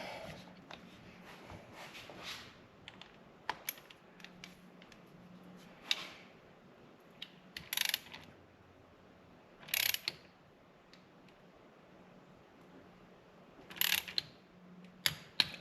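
Torque wrench on a Ruger PC Charger fastener set to 65 inch-pounds, giving a few sharp, isolated mechanical clicks spread across a quiet room with faint background hum.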